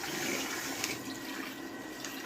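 Hot water runs steadily into a burnt cooking pan, a continuous rushing hiss of filling water at moderate level with no voices.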